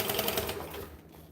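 Sewing machine top stitching through thick glow-in-the-dark vinyl during a bag-making session, a rapid steady mechanical stitching rattle that fades slightly toward the end, close and alone.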